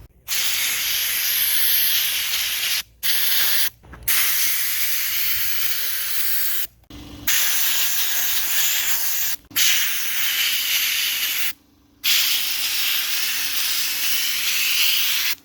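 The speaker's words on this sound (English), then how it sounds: "So we're gonna go in and sandblast it." A harsh, steady high-pressure hiss of sandblasting a 1973–87 Chevrolet/GMC truck vent window frame runs in long bursts, stopping briefly several times before starting again.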